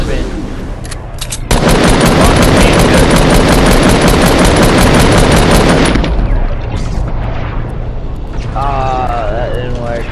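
Rapid, loud gunfire in Fortnite rattles as a sustained automatic burst for several seconds, then fades out, with a voice briefly heard afterwards.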